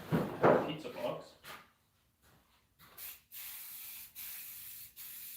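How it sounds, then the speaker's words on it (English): Spray paint, black, hisses in several steady bursts with short gaps on top of an old Healy in a speed shop, following a brief stretch of someone talking nearby. "Are you spray painting on top of the Healy with black?"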